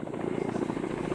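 A helicopter slings a bundle of waste, including concrete rubble, rusted barbed wire and old furniture, down from a mountain summit in a national park; steady rotor chop throbs continuously and fairly close, with no talk.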